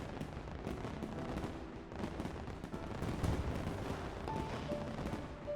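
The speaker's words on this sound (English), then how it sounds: "Fireworks burst in the sky behind her smile." Continuous rapid crackling and popping bursts of fireworks from the video game StarSavior, dense, loud and ongoing throughout.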